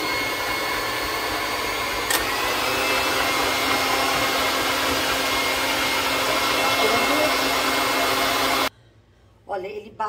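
An electric mixer whirs loudly and steadily while whipping cream for a pistachio cake, a continuous close motor drone that cuts off abruptly near the end, leaving a brief quiet with faint handling.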